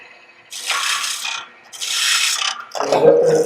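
A wood lathe live center being brought up to the workpiece: a rasping, grinding mechanical rub in two sustained passes, then a harder scraping burst with a faint squeal, close and fairly loud.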